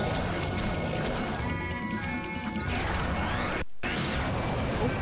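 An explosion in Final Fantasy Crystal Chronicles bursts with a dense crashing blast over busy game music and effects, followed by sweeping tones and a brief cutout before the din resumes.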